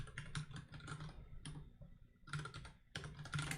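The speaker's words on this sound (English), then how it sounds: "Man, I can't type today." Quick bursts of keystrokes clatter on a computer keyboard, close and clear, broken by short pauses between runs of typing, with no voices over it.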